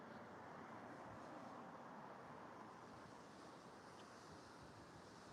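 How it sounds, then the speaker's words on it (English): Sea waves at Blackpool wash in as a faint, continuous broadband roar mixed with wind, heard from a distance with no distinct breaks. "Can you hear the sea?"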